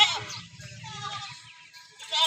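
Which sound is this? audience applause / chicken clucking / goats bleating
goats bleating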